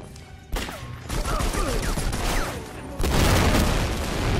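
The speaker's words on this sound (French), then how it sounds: "Attention, grenade" Grenade explosion in the Conflict: Denied Ops video game during a raid on a Siberian castle: loud booming blasts and heavy gunfire in a continuous barrage, with a sharp jump in intensity partway through.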